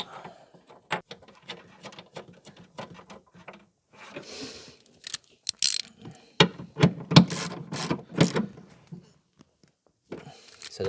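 Clamp being fitted and tightened over a new battery in an Audi RS6, heard as a run of close mechanical clicks and ratcheting ticks. Denser clunks and rattles of metal parts come in the second half, between short pauses.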